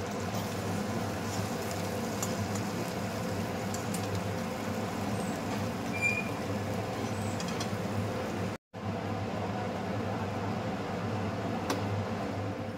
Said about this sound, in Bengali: তো এখানে চিমনি চলছিল, শব্দ হচ্ছিল